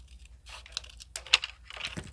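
Scissors snip a small strip from a sheet of paper while a paper rosette is being made, giving a few quiet, close crisp cuts and rustles spread over about two seconds.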